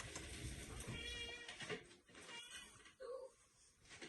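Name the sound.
cat meowing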